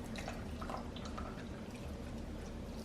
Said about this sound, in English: I'm going to go ahead and add a little bit more hot water